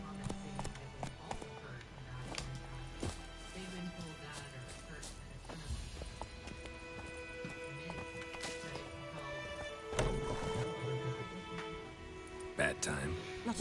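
Galloping horse hooves in The Witcher 3, a fast rhythmic clip-clop with occasional snorts and a whinny, heard under ongoing talk and game sounds.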